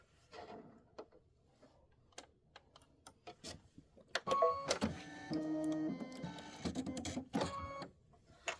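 A sewing machine stitching a quilting stitch through fabric gives scattered clicks and taps at first, then a few seconds of close mechanical whirring and rattling, ending in a couple of soft clicks.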